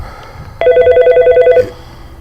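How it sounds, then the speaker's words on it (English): A telephone rings once in a loud, close electronic burst of about one second, with steady tonal pulses, and then stops. "I hear the phone ringing in there."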